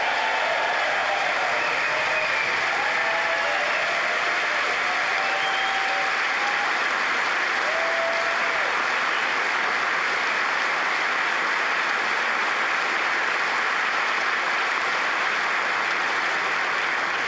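A large audience applauds a speech in a sustained, dense wash of clapping that stays loud and even throughout, with faint cheers and whoops rising briefly above it.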